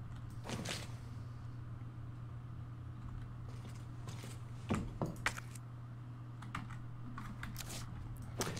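Typewriter typing in the survival horror game Resident Evil 2 Remake, with scattered crisp key clacks, some clustered in quick runs, sounding faintly over a steady low hum.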